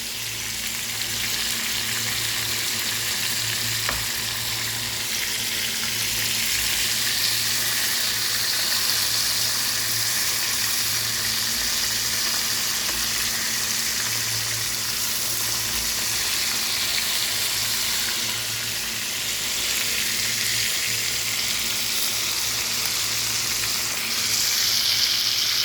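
Appam sizzles in a pan after being flipped, a steady, close frying hiss with a low continuous crackle and no talk over it.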